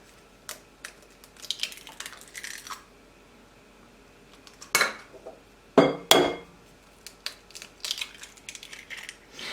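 Eggs are cracked and mixed into brown rice sourdough pancake batter: sharp taps and clinks of shell against a bowl come in scattered bursts, with the loudest knocks near the middle, and quiet pauses lie between them.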